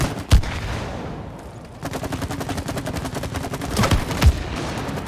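Gunfire at a shooting range in the video game It Takes Two: a couple of sharp shots, then a long, steady rapid-fire stream of rounds with further loud bangs near the end, no talking.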